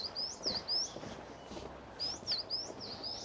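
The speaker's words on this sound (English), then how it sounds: "The birds are all saying hello." Songbirds sing in the wooded Roslin Glen near Roslin Castle in Scotland, high clear whistled phrases repeating in short bursts, moderately near over a faint outdoor hush.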